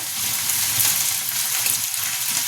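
Potatoes frying in oil in a pan, giving a steady, close, continuous sizzle with no talking.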